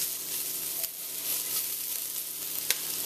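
Scallions sweat in a pot over low heat with a gentle, continuous sizzle and soft crackle. A couple of faint clicks break it up, and no voices are heard.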